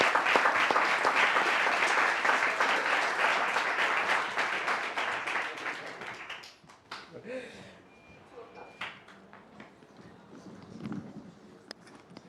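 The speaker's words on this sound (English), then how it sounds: "So give her a big round of applause." Big round of audience applause for a speaker at a Catholic gathering, dense clapping for about six seconds before dying away into scattered claps and room noise.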